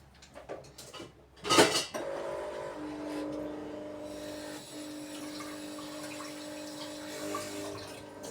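Dishes and cutlery clatter at a kitchen sink, with a sharp clink near the start followed by a steady run of tap water or a low hum, all fairly quiet and without talk.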